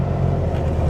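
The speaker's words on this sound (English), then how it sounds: "Oh, super fast Volkswagen Beetle." A turbocharged Volkswagen Beetle drives along with a steady, dense engine drone, loud and continuous throughout the short stretch, with no voices over it.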